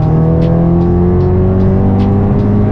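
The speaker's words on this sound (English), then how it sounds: "We're doing a third gear pull." Turbocharged Honda Civic Si engine pulling hard through third gear, a loud steady rising drone with climbing harmonics heard from inside the car, continuous for the whole stretch with no talking.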